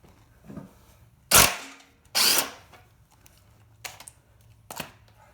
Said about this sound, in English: So we get on here with your impact wrench, I think works best